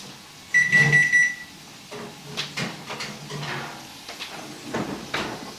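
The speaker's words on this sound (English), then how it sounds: "the smoke detector has been going off while these potatoes was roasting" A new kitchen smoke detector goes off while potatoes roast, giving a short burst of high repeated beeps, followed by clattering and knocking of pans or a door nearby.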